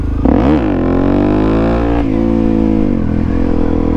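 A Suzuki DRZ400SM motorcycle engine, fitted with an R6 quick-throttle tube, blips sharply up and back down, then holds a loud, steady rev with small wavering swells. It sits close and runs alone, with no talking.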